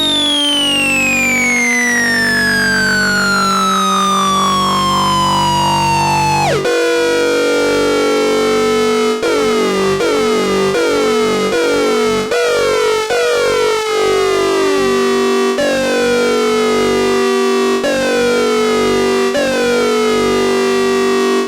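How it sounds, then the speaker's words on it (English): A Behringer 2600 synthesizer with oscillator sync modulated by an ADSR envelope plays a loud, close, siren-like tone. A long downward sweep is followed by a run of repeated sharp retriggered notes, each with its own falling sync sweep. "So let's put sync on oscillator 3 and let's modulate that with the ADSR as well."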